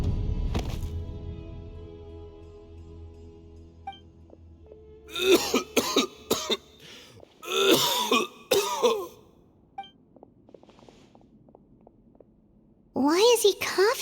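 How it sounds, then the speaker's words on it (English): A character in the Genshin Impact video game coughs in several hoarse bursts spread across the stretch, separated by quiet gaps, with faint game tones in the background. "Why is he coughing so much?"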